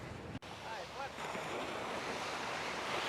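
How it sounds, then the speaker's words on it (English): Broad, steady surf rolls onto an Atlantic beach in Miami, the wash of breaking waves mixed with gusting wind across the microphone; a short dropout breaks in early, then the roar holds continuous and fairly close. "this is the famous Atlantic Ocean"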